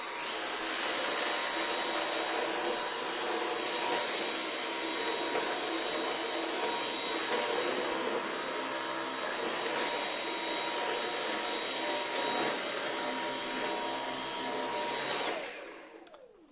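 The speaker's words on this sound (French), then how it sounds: "Je le trouve particulièrement bruyant. Pas son moteur, mais surtout la rotobrosse qui se trouve à son extrémité." A Dyson V8 Animal cordless stick vacuum runs with its motorised brush roll spinning, giving a loud, steady high-pitched whine and rushing airflow that holds constant and then cuts off sharply near the end.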